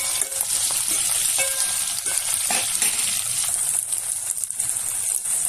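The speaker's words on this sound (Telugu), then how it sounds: "ఇప్పుడు ఇందులో ఉల్లిపాయలు, వేసుకొని కొంచెం ఇవి కూడా ఫ్రై చేయాలి" Onions sizzling in hot oil in a pan for Andhra-style pappu charu, a steady bright frying hiss that runs continuously close up with faint stirring and no talk.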